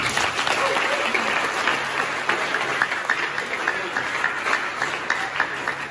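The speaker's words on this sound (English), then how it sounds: "Please, can we clap for them?" A crowd claps at a ceremony for the re-roofed and renovated dining hall of a school for the blind, with a full, steady round of applause and a few crisp claps standing out, a faint murmur of voices underneath.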